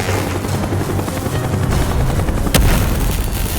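A military helicopter roars over a heliport platform during a battle in Call of Duty: Black Ops, its loud, steady rotor wash layered with low booms and gunfire, and a sharp crack near the end.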